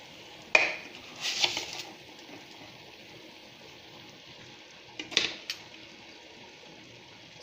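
A spoon stirs tomato and chili paste in a pan for momo chutney, with quiet scraping and two distinct clusters of metallic clinks a few seconds apart over a low, hushed background.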